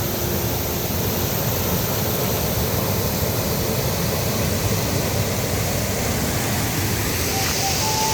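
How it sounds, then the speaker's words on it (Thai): Strong water rushing from Phrom Lok waterfall in Phrom Khiri, a loud, dense, unbroken roar of flowing water that fills the whole stretch with no voices. "น้ำแรงมากครับนี่คือน้ำไหลไหลมาจากน้ำตกพรมโลกครับ"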